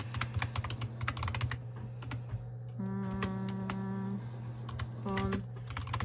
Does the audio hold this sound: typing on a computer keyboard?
yes